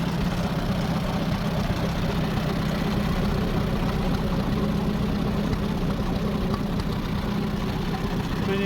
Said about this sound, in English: the old Ford started, look, running there well on paraffin